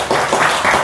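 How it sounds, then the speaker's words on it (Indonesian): A short burst of audience clapping, close and dense, lasting under a second with a slight swell midway. "tepuk tangan"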